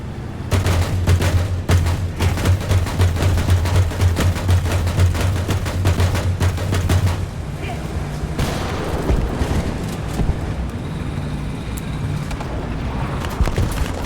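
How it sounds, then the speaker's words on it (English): Dense, sustained bursts of machine gun fire in War Thunder rattle on for several seconds, loud and close, then give way to rumbling battle noise with scattered distant shots. "I see machine gun fire over here."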